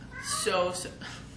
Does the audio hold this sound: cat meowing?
yes